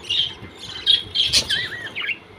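Crested pet birds in an aviary chirp and tweet in quick, bright bursts, with several close, lively calls scattered across a couple of seconds.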